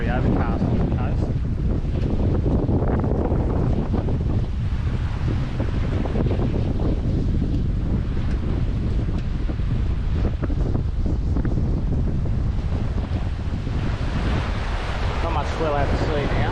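A boat cuts along at sea off an overcast coast near Port Stephens, making about 8.4 knots, with steady wind buffeting the microphone and continuous wash of waves and swell against the hull throughout.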